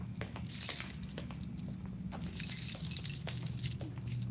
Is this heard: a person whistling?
no